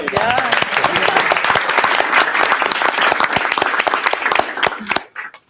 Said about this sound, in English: Applause, no?